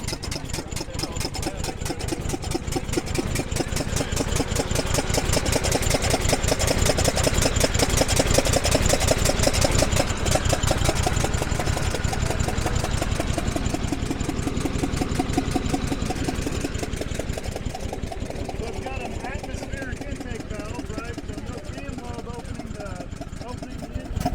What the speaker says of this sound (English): Sounds like they just started up that Packard next to us.